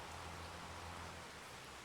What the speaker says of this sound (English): Wish they'd stop the rain. I'm sick of hearing it.